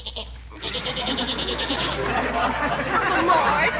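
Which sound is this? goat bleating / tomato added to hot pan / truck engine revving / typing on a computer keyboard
goat bleating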